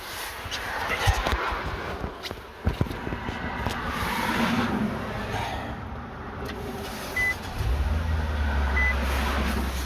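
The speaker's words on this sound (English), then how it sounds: "the car started" A 2019 Nissan Sentra SV engine cranks and starts, then settles into a steady low idle hum close by, following scattered handling clicks and light background noise.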